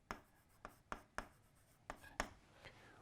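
Marker strokes on a board, close and quiet, in a few short squeaky bursts with brief pauses between them and no one speaking.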